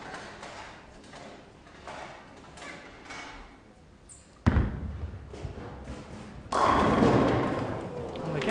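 Bowling ball rolling down a lane and hitting the pins at a televised Weber Cup 2016 Baker-format match, a low rolling rumble ending in a sudden loud crash of pins, then a sustained arena roar with commentary underneath.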